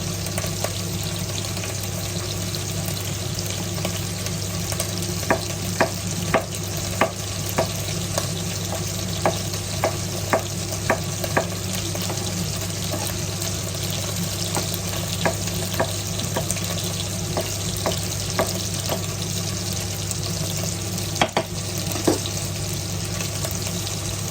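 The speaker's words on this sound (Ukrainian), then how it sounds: "м'ясо смажиться" Meat sizzles steadily in a hot pan for pea soup, a constant frying hiss with scattered sharp pops and crackles, close and unbroken, with no talking.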